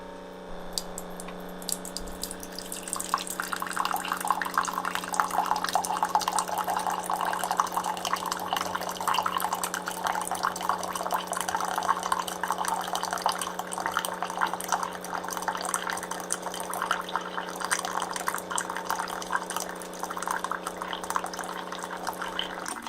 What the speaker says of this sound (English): The hot water is done brewing.